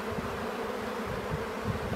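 A large honey bee swarm, estimated at ten pounds or more, buzzing steadily and densely up close, a continuous droning hum with no talk.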